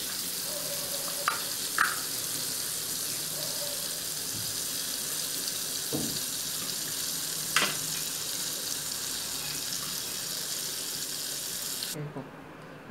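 Ghee heating in a kadai for a tempering, giving a steady broadband sizzle throughout with a few brief clinks and taps of utensils, close and moderately loud, no talking.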